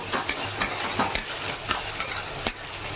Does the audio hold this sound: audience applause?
no